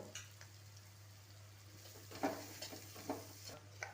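Whole spices, including whole cumin, tempering in hot oil after turmeric for a patol fry, a soft steady sizzle with a few light stirring clinks, close but quiet, under a low steady hum.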